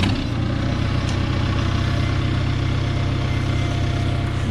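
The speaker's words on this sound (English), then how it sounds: "This tractor always starts pretty good," A Farmall Cub tractor engine, running warm outdoors by a garden, idles with a steady, loud, close-up chug and no pauses. The starting portion is not heard.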